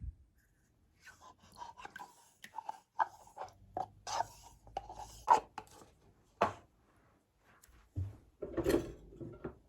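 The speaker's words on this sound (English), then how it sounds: "I'm just going to add it into this bowl and whisk it in" Yoplait French vanilla yogurt whisked in a bowl, heard as irregular close-up bursts of scraping and tapping that come and go in quick clusters, with quiet gaps between.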